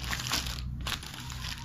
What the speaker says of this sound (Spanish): Voy a proceder a quitarle con las amigas tijeras.